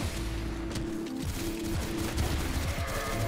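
Rapid gunfire from the online shooter Crossfire, a dense, continuous burst of shots with a steady low mechanical hum beneath, loud and close throughout.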